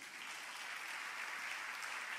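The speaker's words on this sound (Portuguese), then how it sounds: "dê um aplauso a Jesus" A church congregation at a youth service applauds, producing a sustained, even wash of many hands clapping at a moderate distance with no voices standing out.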